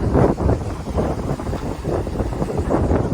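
Gusty wind buffets the microphone in loud, rumbling surges that rise and fall continuously.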